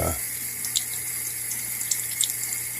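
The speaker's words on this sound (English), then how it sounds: "Just going to do a little bit of rinsing off of the brine" Tap water runs steadily into a sink while brine is rinsed off goose breasts, a constant close hiss with small splashy bursts and no talk.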